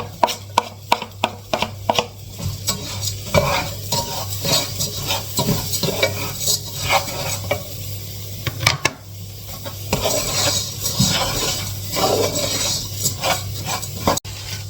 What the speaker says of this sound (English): that's now been frying for a few minutes